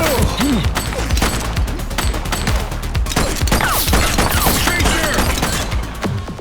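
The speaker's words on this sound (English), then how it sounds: "She's shooting!" Gunfire in The Precinct, a police video game, as a suspect opens fire: dense, loud volleys of shots and impacts continue for several seconds over a busy game mix, with faint voices underneath.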